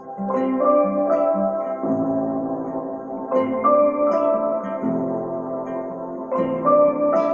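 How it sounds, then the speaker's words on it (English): Layered instrumental music combining piano and guitar, with plucked, piano-like notes and sustained tones, moving through repeating chord phrases at steady volume. "I think I hear some piano and guitar"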